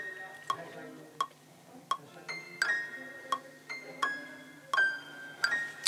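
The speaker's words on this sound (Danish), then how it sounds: "Så har jeg lagt sådan en lille klaver," Short piano melody in a hip-hop beat, with evenly spaced plucked notes and ringing chimes repeating at a steady tempo, fairly quiet and with no voices.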